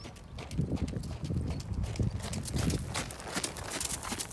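Hooves of a horse being ridden along the long side of an arena, a steady rhythmic clip-clop at moderate distance with no talk.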